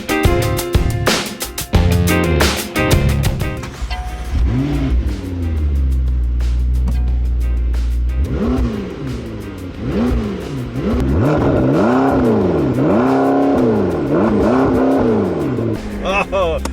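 A McLaren 650S 3.8-liter twin-turbo V8 revs hard and accelerates up close, its loud roar rising and falling through repeated gear changes. Speech and engine noise run throughout.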